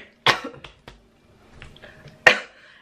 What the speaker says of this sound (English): because I just keep coughing.